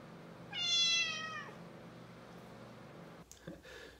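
A single cat meows once, clear and close, a drawn-out call lasting about a second over a quiet room hum, followed by a few faint shuffling noises.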